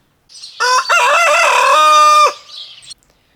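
A rooster crows loudly and close by, one long drawn-out cock-a-doodle-doo with a rising start and a fading tail.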